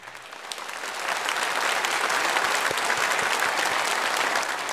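A church congregation in Korea bursts into loud, continuous applause welcoming a missionary from Kazakhstan, the clapping swelling after the first second and holding at a full, dense level to the end.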